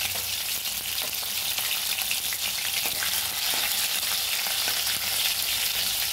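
Mustard seeds and green chillies frying in hot oil for a Rajasthani dal bati churma tempering, giving a steady, dense sizzle with faint crackles and stirring throughout, close and continuous with no talk.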